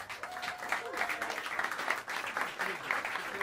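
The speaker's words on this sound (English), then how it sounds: "please help me welcome them to the stage with some warm applause" Warm applause rises from the crowd at Smalls Jazz Club as a quartet is welcomed to the stage, moderate clapping with a few whistles and voices mixed in, fairly close and steady.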